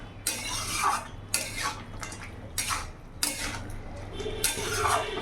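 Fried eggplant and bori being stirred into a spinach curry in a pot, giving a series of scraping, clattering utensil strokes in bursts, fairly close, with no talking.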